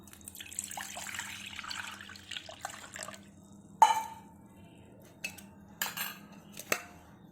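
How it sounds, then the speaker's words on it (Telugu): Two glasses of water are poured over tamarind to make tamarind juice. A soft trickle and splash runs first, then several close metallic clanks of a vessel and utensils follow, with quiet gaps between them. "2 గ్లాసులు వాటర్ పోసి చింతపండు రసం తీసుకుందాం."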